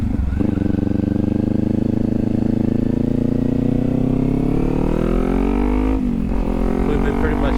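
A motorcycle on a road ride accelerates to speed, its engine drone rising steadily in pitch with a brief dip as the gear shifts, loud and close with constant wind rush.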